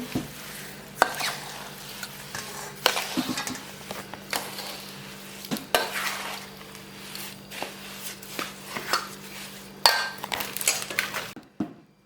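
Spoon stirring and mixing Khandeshi jaggery mango pickle in a pot, with irregular scraping and clinking strokes against the metal and a faint sizzle of oil underneath, no talk.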